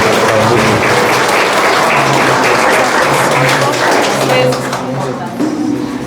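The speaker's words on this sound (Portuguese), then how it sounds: "A igreja dá uma salva de palmas e dá glória a Deus e aleluia a esse ato." A church congregation in Jacaré, Pintadas, Bahia, bursts into loud, sustained applause during an installation service, with steady dense clapping fading slightly at the end and voices mixed in.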